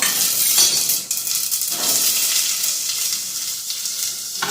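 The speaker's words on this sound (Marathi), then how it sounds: "मी तेल घातले कडेमध्ये आणि याच्यामध्ये माझं जिरं मोहरी आहे टाकले जिरं टाकले आणि आपण टाकूया हा कांदा" Onion hits hot oil in a kadai already holding cumin and mustard seeds, producing a loud, dense, continuous hissing sizzle up close, with a faint clink of utensils and no voices.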